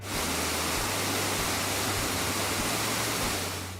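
A steady, dense rush of falling water from Eternal Flame Falls roars continuously, close and loud, with no other sounds.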